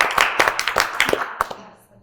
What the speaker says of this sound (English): There's a lot of online clapping, by the way.